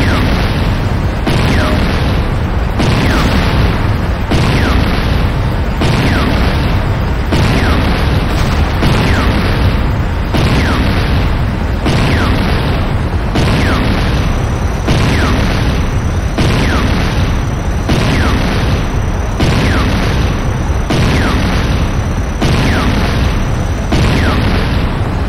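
Explosions battering a GDI Weapons Factory in the game Renegade, a loud, continuous barrage of booming blasts in a regular pulsing rhythm lasting throughout.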